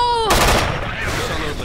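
Gunfire rings out in the video game Left 4 Dead 2 as a sharp, loud burst that fades into a reverberant tail, while a voice talks over it.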